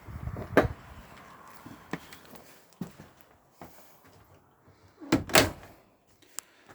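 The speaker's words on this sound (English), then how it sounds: "I'm going to go inside the van now and shut the door over." The door of a 2008 Bailey Pageant Burgundy caravan is pulled shut from inside, with two solid thuds, the second louder and nearer, among lighter knocks and footsteps on the van floor.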